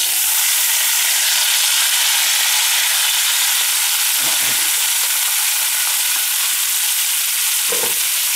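Peas going into hot oil with browning garlic and herbs for Trinidad dhalpuri roti, a loud steady frying sizzle filling the whole stretch, with two brief clatters of stirring near the middle and end.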